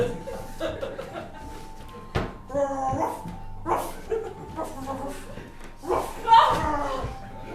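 A dog barks and yips several times in short bursts amid whimpers, close by, while people talk and chuckle over it.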